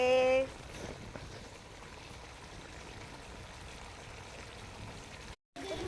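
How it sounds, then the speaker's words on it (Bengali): Spice paste frying in a pan, a steady close sizzle and bubbling hiss running throughout, with a brief clatter at the start and a short dropout near the end. "এই যে মশলা কষানো হচ্ছে"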